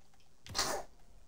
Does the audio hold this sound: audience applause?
no